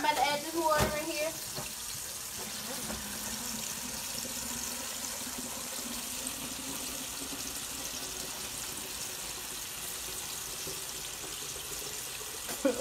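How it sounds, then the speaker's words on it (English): Water poured into a container to make tea, a steady gentle pouring stream running close and fairly quiet for the whole stretch, with a few clinks near the start. "So now I'm about to add this water in here."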